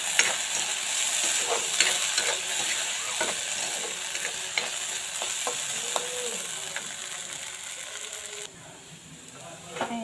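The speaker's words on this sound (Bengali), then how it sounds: "এতিয়া আলুখিনি অকণ পুৰা ৰঙা হোৱা নিচিনা হৈ গ'ল ভাজা অলপ সিজা নিচিনা হৈ গ'ল" Potatoes with turmeric powder and salt fry in a pan with a steady close sizzle, broken by repeated scraping clinks of stirring that ease off near the end.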